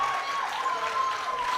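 A powerlifting crowd at the World Sub-Junior and Junior Championships cheers and applauds steadily after James Adcock's 302.5 kilo squat, with the roar continuing under a commentator's voice.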